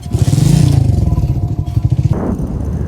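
Motorcycle engine running close by during a ride near a burning wheat field, a steady loud rumble with a brief shift near the end.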